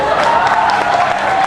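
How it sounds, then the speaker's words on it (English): Applause from the audience at a live semi-final performance fills the space as a dense, continuous wash of clapping and crowd noise, loud and unbroken for the brief moment. "You really can clap, you know, you don't have to just stay quiet"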